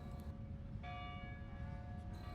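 St. Louis Cathedral bells in Jackson Square, New Orleans, ring faintly in the distance with a sustained tolling tone over steady city background noise.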